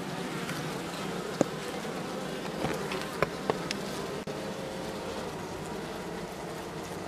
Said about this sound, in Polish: No widać masę młodej pszczoły.